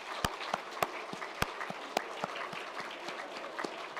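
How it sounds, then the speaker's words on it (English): Graduates at a business school commencement applaud their family and friends with sparse, scattered clapping, a few sharp individual claps standing out over a thin, uneven background of hand claps. "just give them a round of applause"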